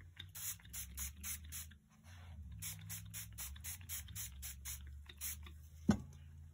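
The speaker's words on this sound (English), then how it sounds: "Spray this with the clear." Clear coat sprayed from an aerosol can onto a journal page in repeated short bursts, a steady rhythmic hiss pulsing on and off with a soft clack near the end.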